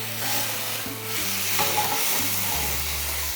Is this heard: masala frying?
yes